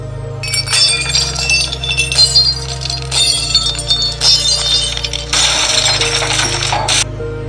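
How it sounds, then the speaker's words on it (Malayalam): Glass clinking and shattering in several bright bursts, pieces clattering onto a hard floor, over a steady low hum. "ഗ്ലാസ് പൊട്ടുന്ന ശബ്ദം കേട്ട് പൂച്ചാരൻ ഞെട്ടി"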